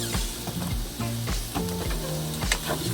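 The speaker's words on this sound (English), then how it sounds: "We saute that up." Philly cheesesteak filling sautéing in a pan over medium heat, with continuous sizzling broken by repeated scraping and stirring strokes in an uneven rhythm.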